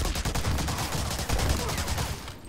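MP40 submachine gun fire in the Medal of Honor Allied Assault video game, rapid close automatic bursts of sharp evenly spaced shots in quick rhythm, loud and continuous before cutting off.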